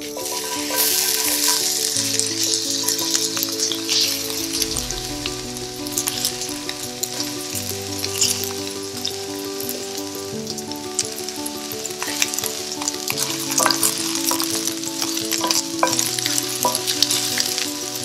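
Chopped onion fries in hot extra virgin olive oil, with a steady, bright sizzle and crackle that runs throughout and occasional stirring clatter, with soft background music and no talking.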